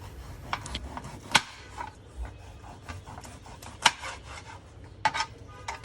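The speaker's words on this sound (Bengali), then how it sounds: "মাছের আঁশ কিন্তু থেকে যায়, তাই আমি চামচ দিয়ে ঘষে ঘষে ক্লিন করে নেই" A metal spoon scrapes scales off cut fish pieces in a home kitchen, making a series of irregular, short rasping strokes, close and clear, with faint clinks between them.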